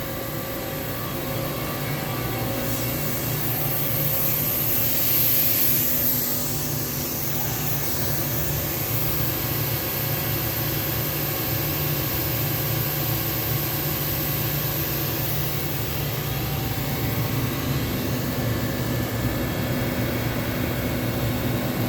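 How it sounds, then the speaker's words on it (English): A 2022 Doosan Lynx 2100LSYA CNC lathe with sub spindle and 12-position live-tooling turret runs in a shop, giving a steady, even machine hum with a faint hiss and a brief high whine early on, no talk. "then we're going to run the machine so you can see the machine function"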